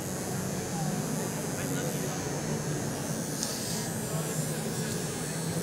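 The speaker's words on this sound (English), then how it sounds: "So on either eye, I'm just shaving the hair that's on the bottom lid." Electric clippers with a 10 blade shaving hair under a Bichon's eye, a steady close electric buzz and hum running throughout while a person talks over it.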